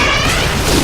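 A grenade goes off in a video game, one loud dense burst of noise filling the whole brief moment, with no voices over it.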